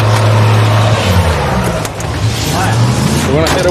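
Truck engine running at a junkyard build site during a Scrapheap Challenge contest to make building bashers; a steady, loud low rumble continues throughout while people shout and talk over it.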